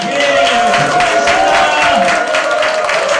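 An audience at a blockchain lecture applauding: steady, dense clapping from a crowd that stays loud and even throughout.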